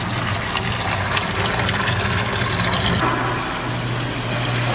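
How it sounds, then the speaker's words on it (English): Hot water from a tap runs full blast into a sink, a steady loud rushing that continues unbroken with a low hum beneath it. "you turn only the hot water on full blast and wait a few minutes"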